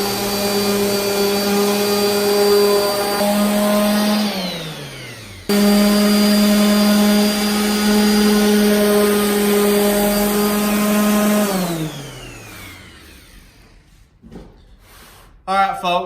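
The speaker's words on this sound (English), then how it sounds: "I'm gonna take the orbital sander, I'll flip these guys up on their sides, and I'm gonna run some 80 grit over this" An orbital sander running 80 grit over wooden cabinet face frames, a loud steady motor whine that winds down, restarts and spins down again before a few knocks.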